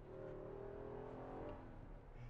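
A 2023 Nissan Patrol Ti-L off-road SUV's V8 engine revs steadily and loudly up close, a continuous throaty drone with a rising tone as the gears are worked.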